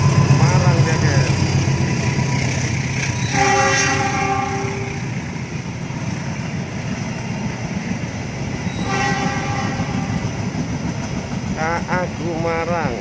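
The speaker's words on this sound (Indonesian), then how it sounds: "Sepertinya kereta api barang sih." A freight train rumbles past in the rain with a continuous clattering roar, sounding its horn in long blasts twice and a short burst near the end.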